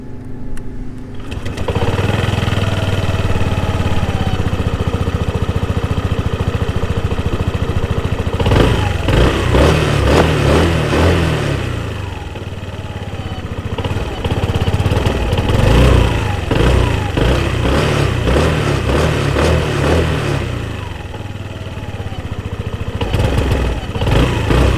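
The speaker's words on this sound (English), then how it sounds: "let's get on the scooter and let's go for a ride here" A QJMOTOR Fort 125N GT scooter under way, its small engine droning steadily and close throughout. The pitch rises and falls with the throttle, over constant wind and road rumble, and no one speaks.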